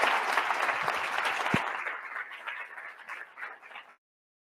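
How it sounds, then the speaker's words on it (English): Sustained, dense applause from a keynote conference audience fills the space, fairly loud at first and gradually thinning before stopping abruptly. "let's give Aaron another round of applause"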